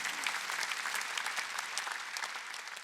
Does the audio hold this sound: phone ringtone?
no